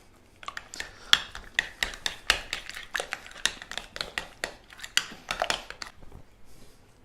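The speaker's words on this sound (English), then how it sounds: "Gonna give this a stir." Salt and pepper being stirred in a bowl, giving a quick series of short scraping, rubbing strokes at a steady rhythm, close and moderately loud with no talking.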